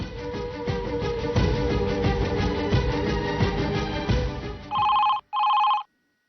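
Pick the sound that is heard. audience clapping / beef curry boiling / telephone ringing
telephone ringing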